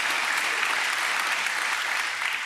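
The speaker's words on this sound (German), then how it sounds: "Dein Applaus." Studio audience applause on a Berlin late-night talk show, a dense, even roar of many hands clapping that holds steady throughout and fades slightly at the end.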